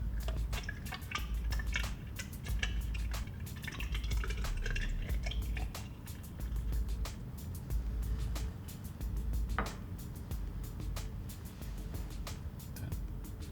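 Thiosulfate solution poured into a glass burette through a funnel in a lab, giving a soft continuous trickle with scattered drips and small splashes, close and without talk.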